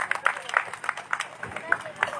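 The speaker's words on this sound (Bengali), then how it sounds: "জন্য জোরে করতালি দিই।" An audience at a reception for a newly ordained priest claps for Father Simon Hachha, a short burst of steady, fairly close applause with voices mixed in.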